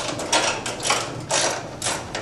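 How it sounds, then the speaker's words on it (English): Screws being removed from the control cabinet of a Frontload Horizon 802866P washing machine, heard as close, repeated ratcheting clicks in four short bursts with brief pauses between them. No talking. "Remove the two screws holding the bottom flange of the control cabinet to the top flange of the front panel."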